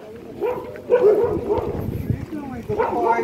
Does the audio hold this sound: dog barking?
yes